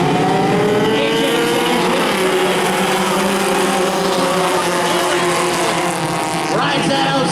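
Outlaw mini sprint race cars rev together at the start of a feature race, a dense, loud engine drone with rising and falling pitch, and a commentator's voice over the top.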